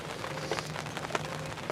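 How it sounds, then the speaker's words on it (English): Spring rain falling by a river where carp anglers are set up, a close, steady patter of drops with scattered louder splats and a faint background hum, no voices. "hopefully this rain doesn't get too bad for the next while"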